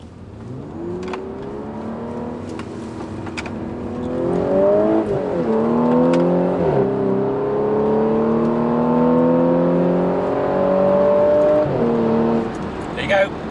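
An Audi S4 engine revs and accelerates, its tone climbing through gears with brief dips at the shifts, loud and close with a smooth rising growl.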